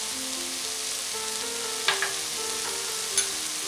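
Turmeric is stirred into French beans, carrots and peas frying in oil for masoor pulao, giving a steady, close sizzle broken by a few light knocks from the stirring spoon.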